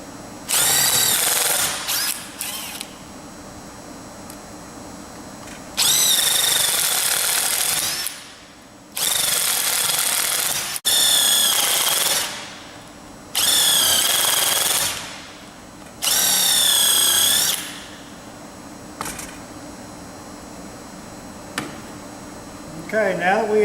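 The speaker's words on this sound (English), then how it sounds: "and then begin to drill our holes." Drilling holes with bits lubricated by squirted silicone lubricant, heard as five loud, high-pitched bursts of a few seconds each with short pauses between, and a faint voice talking in the quiet gaps.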